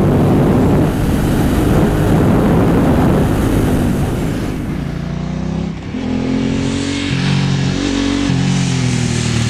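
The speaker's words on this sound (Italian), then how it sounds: "suono della Ducati Monster, il bicilindrico che appunto fa tremare la terra" Ducati Monster twin-cylinder motorcycle with twin aftermarket exhaust tips, a loud engine roar mixed with wind rush that settles into a steadier, lower throbbing note partway through, with no talk over it.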